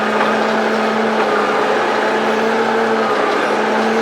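Zetor Major 80 tractor pulling away with its clutch released, a steady mid-pitched engine drone running close and even throughout.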